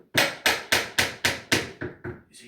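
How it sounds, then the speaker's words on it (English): A claw hammer strikes a bent nail in a door frame while door stops and facings are fitted: a close, steady series of about seven sharp blows whose last few grow lighter, with no talk. "Don't just try and force it out with your claw hammer."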